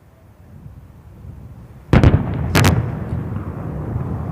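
Artillery guns fire during the Vayushakti 2024 military exercise, sending two loud, sharp booms less than a second apart, each followed by a rumbling echo that lingers over a quiet background.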